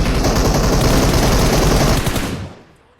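Sustained close machine gun burst in the battle royale game PUBG Mobile, loud rapid fire for about two seconds, then fading to silence.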